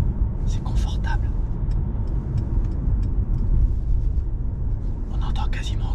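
Interior of a car cruising at 50 km/h on air suspension, a steady low road and engine rumble that stays soft and even, with faint clicks and higher rustles near the start and end.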